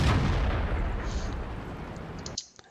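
A KV-1 heavy tank's cannon firing in World of Tanks: one loud, booming shot with a long rolling decay, cut off abruptly near the end.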